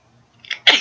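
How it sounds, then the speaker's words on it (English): A single sneeze, a soft indrawn breath building up to one loud, explosive burst at the end, close and alone. "exploded in a truly colossal sneeze that sent her reeling forward"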